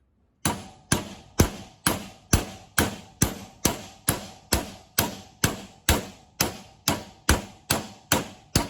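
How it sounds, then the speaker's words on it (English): Steady, evenly spaced blows from a heavy hammer ring out on metal while changing bearings without a press, about two per second, each a sharp loud clang that decays quickly, with no talking. "making a lot of noise, but I'm not really hitting it that hard, but it's a heavy hammer"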